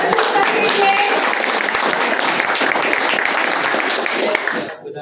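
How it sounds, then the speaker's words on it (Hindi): Continuous applause from an audience at a poetry gathering in Kanpur, loud and dense, with some voices mixed in, fading out at the end. "एक बार जोरदार तालियां"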